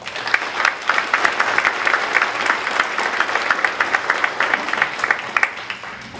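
Applause at a student leadership awards event honoring faculty advisors: dense, sustained clapping from a sizable audience, steady and fairly loud throughout with no talk over it.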